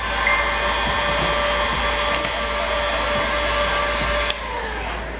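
A heat gun blows a steady, loud whir while warming car wrap vinyl, running continuously with a sharp click near the end.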